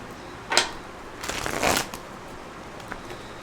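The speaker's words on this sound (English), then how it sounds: "I'm trying to get these cards nice and shuffled" Tarot cards are shuffled close by in two quiet riffling bursts, a short flick and then a longer ruffle, followed by faint taps against a soft background hiss.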